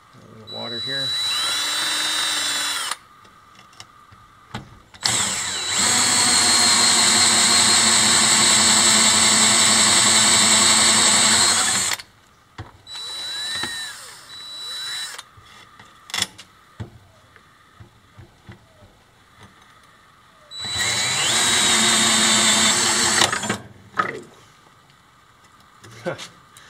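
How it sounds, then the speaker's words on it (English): A power drill boring through wood at a lumber mill whines loudly in several long bursts, with quieter handling noises and brief pauses between runs. "I drill most of the way through on one side and then drill from the other side"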